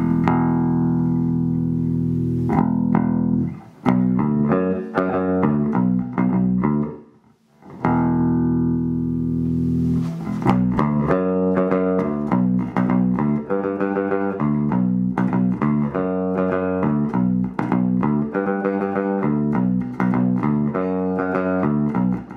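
Bass played through a MojoTone 50-watt bass amp with gain all the way up and master down, loud distorted notes and chords ringing steadily with a brief gap near the middle, no talking.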